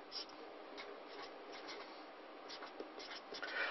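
A pen scratches steadily across paper while a math expression with a base-10 logarithm is written out for an SAT problem. The quiet, continuous writing has small strokes and taps, and no one speaks.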